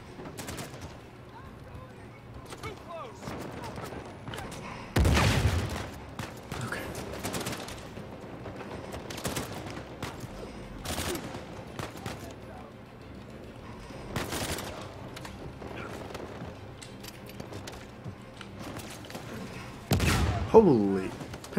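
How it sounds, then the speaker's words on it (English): Enemy gunfire crackles in the Uncharted 4: A Thief's End action game, with scattered shots and bursts of automatic fire. Several louder volleys stand out near and far over about twenty seconds, mixed with a player talking now and then. "How are they shooting me?"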